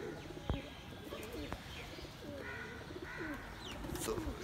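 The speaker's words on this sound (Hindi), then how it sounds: "ये जी अपने कबूतर खुले हुए हैं बाहर" Pigeons on a rooftop three or four storeys up coo softly and repeatedly in the open air, with a few sharp knocks and faint chirps mixed into quiet outdoor background.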